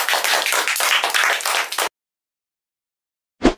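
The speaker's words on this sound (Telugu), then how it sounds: "క్లాప్స్ కొడండిరా" A group of people clapping together in a burst of dense, close applause lasting about two seconds, then silence and a short final clap at the end.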